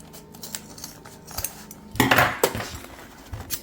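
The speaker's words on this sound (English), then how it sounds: "Trim that zipper down" Scissors snip a few times while trimming a zipper, crisp metallic clicks with a louder cutting burst in the middle, close by, with no talking.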